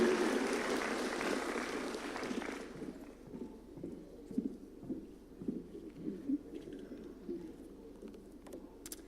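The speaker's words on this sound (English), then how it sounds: "Let's give her a clap as she's coming, kindly." Audience applause at a State House Nairobi event as the KEPSA CEO walks up to speak, a loud burst at first that quickly drops to scattered distant claps and footsteps.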